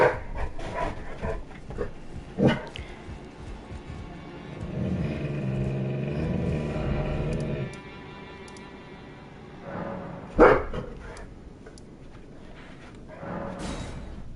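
A dog barks and whimpers indoors in a mix of sharp close barks, whiny murmurs and panting, with a car passing or revving faintly in between, moderately loud and without talk.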